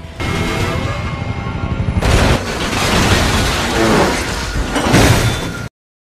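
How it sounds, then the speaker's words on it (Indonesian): Gunfire strikes a helicopter's engine until it crashes onto a street in a James Bond film, heard as a dense, loud barrage of shots and impacts with a sharp burst near two seconds and continuous roaring debris noise. "Tembakan diluncurkan beberapa kali sampai akhirnya mesinnya terkena dan helikopter tersebut jatuh di sebuah jalan"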